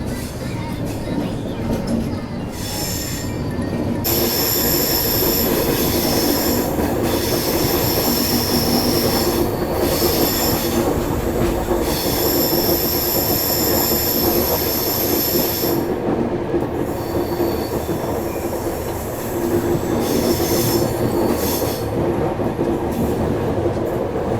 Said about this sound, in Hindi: वो देखो वहां पर चल रहा है अपना लोकोमोटिव, बहुत शार्प कर्व है।